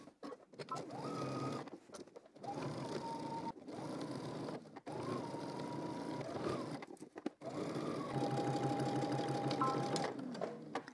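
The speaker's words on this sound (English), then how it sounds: "we're going to edge stitch. I'm going to start about 2 inches in" Sewing machine edge stitching a bodice lining, close and steady runs of whirring stitches broken by short pauses, with faint speech in places.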